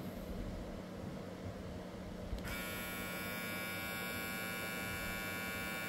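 A Sejoy Hunter hair clipper runs steadily at speed, its close electric motor buzz holding constant for several seconds, with a bright high whine entering partway through; no talking.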